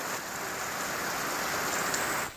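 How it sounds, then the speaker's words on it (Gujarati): A heavy downpour pours as a steady, close hiss of falling water, even and unbroken throughout the short stretch, with no one speaking. "વરસાદ જો દીકા વરસાદ"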